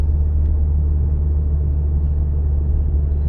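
A car in fifth-gear cruising during a driving exam gives a steady, loud low engine and road rumble from inside the cabin, constant throughout with no speech.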